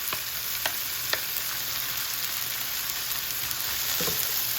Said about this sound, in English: You definitely want to hear that sizzle.